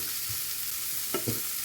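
Chopped spring onion sautéing in a pan for prawn curry, a steady close sizzle with a few soft scraping stir strokes near the end.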